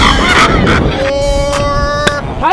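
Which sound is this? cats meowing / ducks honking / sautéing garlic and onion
ducks honking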